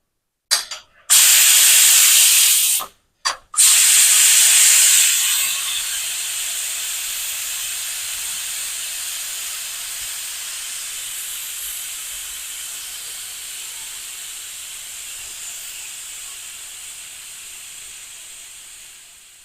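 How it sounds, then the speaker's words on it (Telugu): Steam rushes out of a pressure cooker as its whistle weight is lifted after six whistles, a loud sustained hiss, broken by a couple of short gaps at the start, then fading steadily. "ఇలా విజిల్ ఇలా పైకి లేపడం వల్ల దీంట్లో ఉన్న ఆవిరి మొత్తం బయటకు వచ్చేసి కుక్కర్ అనేది త్వరగా ఓపెన్ అవుతుంది"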